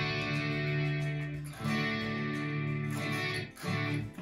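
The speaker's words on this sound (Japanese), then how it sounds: "あんまり歪みがかかってない音で弾きます。" Electric guitar played with a light, lightly distorted tone, ringing sustained chords with a couple of changes and a bright, slightly gritty edge, heard alone without talk.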